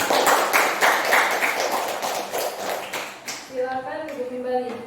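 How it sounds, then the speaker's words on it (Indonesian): An audience applauds group 3 after their presentation in a classroom, a dense burst of clapping that fades as a voice starts speaking. "Kita berikan aplaus untuk kelompok 3"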